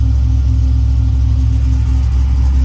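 Car engine with a freshly installed Tremec TKX transmission running as the clutch is let out, a loud, steady low rumble with a constant hum, close up and without talk.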